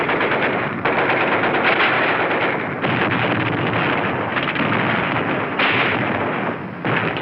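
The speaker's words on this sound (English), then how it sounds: "A mortar barrage searches out hidden machine gun nests." Mortar barrage and machine gun fire in World War II combat footage from the Iwo Jima invasion, a dense, continuous roar of rapid firing and blasts, loud and unbroken throughout.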